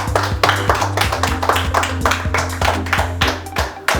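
A small group claps at an award celebration, a close, loud round of distinct claps in a quick, uneven rhythm over a steady low hum.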